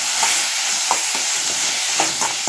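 Chopped onions and tomato fry in a pan with a steady hiss, broken by occasional scraping stirs of a spoon, close and fairly loud with no talking.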